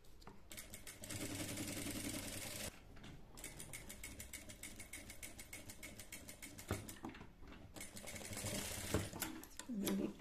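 A sewing machine stitching a collar onto a v-neck garment with a fast, steady mechanical rattle in long runs, pausing briefly twice, fairly close.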